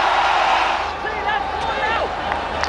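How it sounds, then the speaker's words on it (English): A cricket crowd in the stands at an India versus England Test match applauds and cheers as Sachin Tendulkar walks out to bat, a broad steady wash of distant clapping under a commentator's voice. "Huge applause as usual for Sachin Tendulkar out in the centre."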